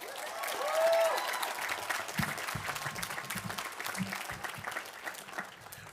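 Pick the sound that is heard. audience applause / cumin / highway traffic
audience applause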